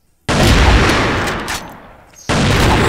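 Rapid, loud sniper fire from the AWM Infernal Dragon rifle in the shooter game CrossFire: one sustained burst of gunfire that tapers off, a brief drop, then another loud shot at the end.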